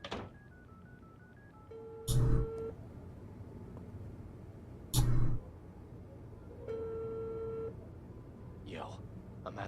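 Telephone keypad tones and a couple of short beeps from dialing for a phone call, with louder electronic bursts between them over a quiet room background.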